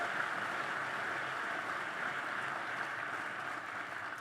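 Steady, distant applause from a crowd at an outdoor college commencement ceremony at Gettysburg College, a soft continuous wash of clapping with no voices.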